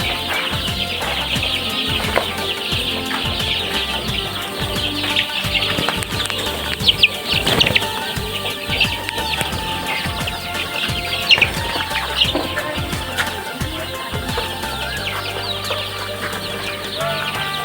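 A flock of 18-day-old layer chicks scurrying around their pen, with dense continuous high-pitched cheeping and peeping from many birds close by, occasional louder chirps standing out over a busy rustling background.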